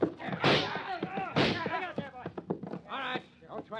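Gunshot effect in a radio mystery drama, two sharp bursts mixed in with tense dialogue, voices speaking close throughout.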